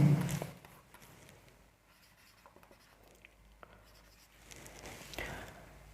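Marker or chalk strokes on a board during a Class 10 maths lesson, a few short scratchy bursts near the start and again around the end, with quieter gaps between and no talking.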